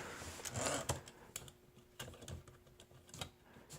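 An Italian Antares Parva ultra-portable manual typewriter is struck in quick, uneven keystrokes, sharp close clacks with small pauses between them, in a quiet room with no talking.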